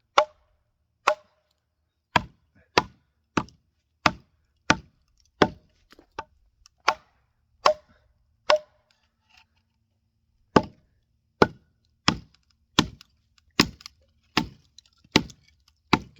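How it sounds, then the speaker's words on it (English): A Schrade SCHF9 knife splits wood: a series of sharp, dry wooden cracks and taps at irregular intervals, close by, with a brief pause partway through and no talking. "Hear that wood crack a little bit."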